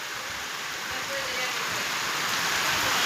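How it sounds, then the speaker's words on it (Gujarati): Heavy rain falls at night amid strong wind, a loud, even rushing hiss that builds slightly and continues without a break. "આજ વરસાદ જોરદાર પડેલો છે"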